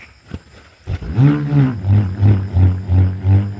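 A loud, close whirring roar that swells and fades in a steady rhythm, pulsing about three times per second after a brief start.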